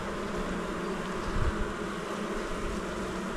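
Honeybees from an apiary hum in a steady, dense drone on a warm spring day, close and continuous with a brief louder swell near the middle.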